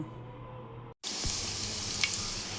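Chopped onions fry in oil in a pan with a steady, close hissing sizzle that briefly cuts out, then returns stronger and brighter, with a faint stirring scrape; no one speaks.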